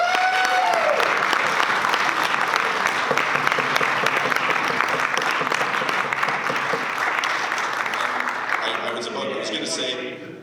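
An audience at a council meeting on active transportation and road safety bursts into sustained applause, dense and loud throughout, with people talking through it and fading slightly at the end.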